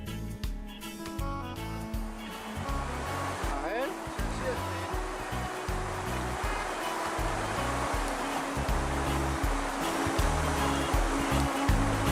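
A stream flows steadily beside the entrance of a mine on the southern slope of La Paramera, near El Barraco, making a constant rushing, splashing wash with a low rumble from start to finish.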